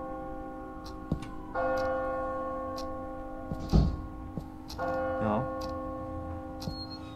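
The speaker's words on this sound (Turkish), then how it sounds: "Çan sesi var, ne alaka?" Bell tolls from a psychological horror video game, two sustained ringing strikes with long decays at a moderate level, alongside a ticking clock and a few sharp knocks, with no talking.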